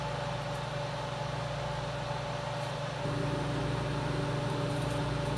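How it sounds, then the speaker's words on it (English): A room ventilation vent runs steadily throughout, a loud even broadband whoosh with a low hum that grows slightly louder partway through, with no talking. "Oh, let me shut my vent off."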